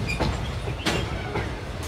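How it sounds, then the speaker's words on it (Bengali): A train rolls slowly into a deserted rural station platform at night, a dense steady rumble punctuated by a few sharp metallic clacks and hisses, loud and close with no voices. "ধীর গতিতে যখন ট্রেন এসে ডুংরিখালির নির্জন প্ল্যাটফর্মটা ছুঁল"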